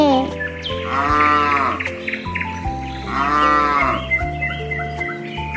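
Cow mooing as a sound effect, two long drawn-out moos over background music, loud and near.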